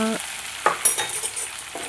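Stuffed brinjal curry fries in a pan and is stirred, a brief close sizzle broken by a couple of scraping spoon strokes, with no voices.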